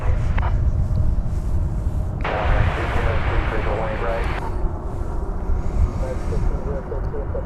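An airliner holds on runway 18 Left at DFW Airport, its engines a steady broad roar that swells louder in the middle stretch before settling, with radio chatter and commentary talking over it throughout.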